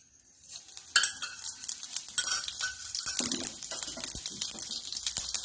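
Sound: cumin seeds sizzling in tempering oil

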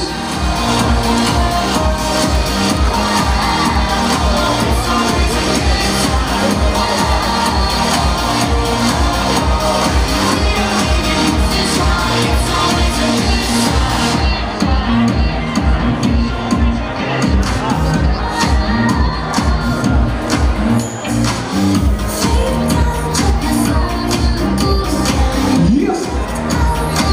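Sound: bat mitzvah guests clapping and cheering

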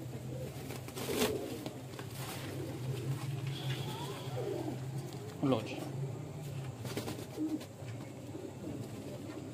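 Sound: pigeons cooing

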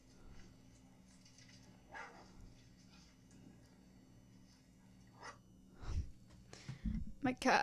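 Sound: dogs barking

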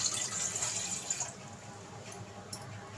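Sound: water pouring into a glass

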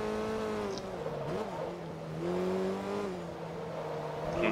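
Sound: VW Golf GTI engine revving in video game Forza Motorsport 2

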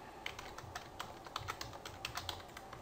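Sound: typing on a computer keyboard

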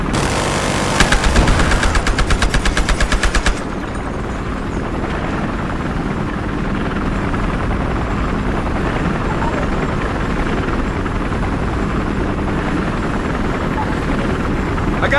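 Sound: helicopter flying in the video game Battlefield Hardline

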